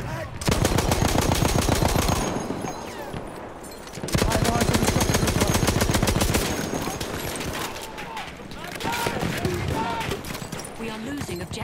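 Machine gun fire in Battlefield 1, likely the Benét-Mercié on the Suez map, comes in long, loud, rapid bursts with brief pauses between them. Other gunfire and a voice can be heard faintly underneath.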